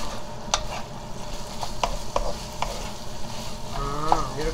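Dried pollock (nogari) stir-fried in oil with gochujang sauce sizzles steadily in a pan, with repeated scraping strokes of a utensil stirring the mixture up close; no talk is heard.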